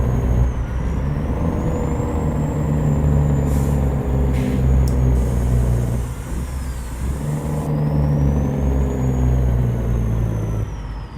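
A Peterbilt 389 flatbed truck in a driving game, with a loud steady engine drone and hissing air-brake releases layered over it, alone with no talk.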